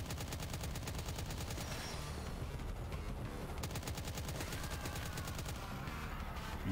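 Rapid, sustained automatic gunfire in the retro 90s-style arena shooter game Impaler, dense repeating bursts filling the whole stretch with only brief gaps, loud and close.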